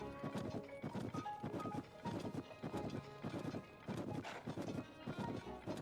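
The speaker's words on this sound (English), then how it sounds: "This horse is actually really quick." Rhythmic hoofbeats of a horse galloping in The Legend of Zelda: Tears of the Kingdom, steady repeated thuds at a quick pace, close and fairly loud, with game background sounds.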